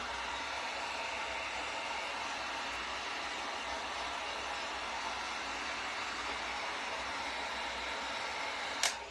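A handheld dryer blows a steady, loud whooshing roar while drying paint on a DIY bunny craft kit, unbroken for the whole stretch before a brief click as it shuts off.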